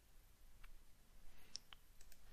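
A few soft, sharp clicks from a computer mouse sit over a quiet room hum, spaced irregularly, faint and close.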